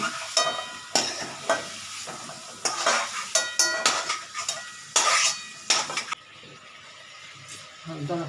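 Shrimp (chingri) lightly frying in a pan, with repeated stirring scrapes and clinks of utensil on metal over a steady sizzle, in bursts that stop near the end.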